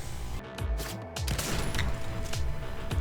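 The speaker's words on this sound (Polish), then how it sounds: "Ktoś do mnie strzela i nie wiem skąd." Rapid gunfire in Fortnite: bursts of sharp shots crack in quick succession, some near and loud, others echoing from further off, forming a dense, continuous firefight with no talking.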